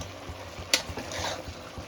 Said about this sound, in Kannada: ಸ್ವಲ್ಪ ಚೆನ್ನಾಗಿ ಎಣ್ಣೆಯಲ್ಲಿ ಚೆನ್ನಾಗಿ ಫ್ರೈ ಮಾಡಿಕೊಂಡ್ರೆ ಅದು ಹಸಿ ಸ್ಮೆಲ್ ಎಲ್ಲ ಹೋಗುತ್ತೆ